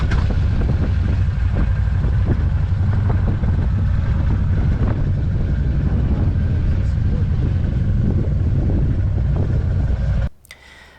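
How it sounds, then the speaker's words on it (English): A UTV engine idles steadily on a road trip to a lighthouse on the northwestern end of Aruba, a loud continuous low rumble with wind, then cutting off abruptly near the end. "Engine on."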